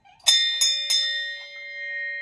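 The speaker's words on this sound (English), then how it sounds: "let me just ring the bell." A small hand bell is struck three times in quick succession indoors at a home recognition celebration, each bright metallic ding followed by a long ringing tone that fades slowly.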